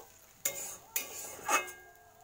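Spice paste with a little water is sautéed in a pan for banana blossom chops. Three separate quick scrapes of a spoon against the pan, each with a short wet sizzle, come close and fairly quiet.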